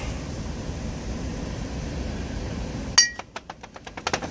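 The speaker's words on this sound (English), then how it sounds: "These are beer bottles." Old glass beer bottles from around 1890 to 1900, found in a forest, clink sharply together: one bright strike followed by a quick run of lighter chinks, close up, after a stretch of steady outdoor background noise.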